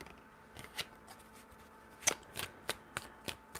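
Tarot cards shuffled by hand in a quiet room, a series of soft crisp card slaps and riffles spaced irregularly, several sharper bursts near the end, close up with no talking.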